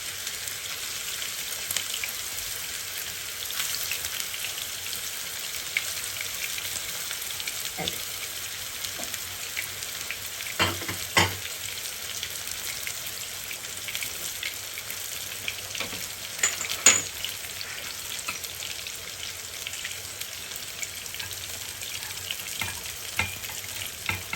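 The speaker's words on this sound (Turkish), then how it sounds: "Hemen köftelerimizi tavamıza alıyorum." Steady crackling sizzle of meatballs frying in hot oil in a pan, continuous throughout with occasional louder pops and clinks, no voices.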